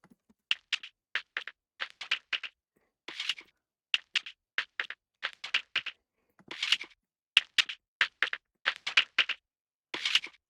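Hi-hat-like sample built from white noise and granular synthesis: short, crisp noise ticks in a syncopated rhythmic pattern, some in quick clusters, clean and dry with silence between hits.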